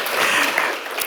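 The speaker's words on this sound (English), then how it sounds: "We can clap for her." Brief burst of clapping from an audience at a fiction prize award ceremony, a short patter of many hands heard from a distance in a room.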